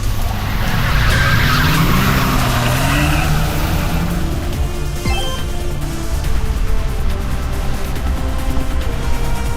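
Car in the video game Noel the Mortal Fate roaring at full throttle, a loud continuous engine drone with tire skidding and squealing, steady and close for the whole stretch.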